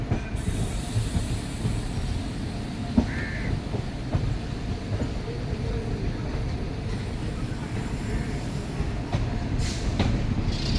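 The Kottayam–Nilambur Express runs into Edappally railway station with a steady broadband rumble of wheels and carriages, and faint crows call in the background.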